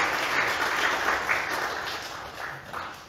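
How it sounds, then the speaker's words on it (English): A church congregation applauds on Easter Sunday morning, a steady wash of many hands clapping that stays fairly loud and gradually tapers over about three seconds. "Let's give the boys another round of applause to Noah and DJ."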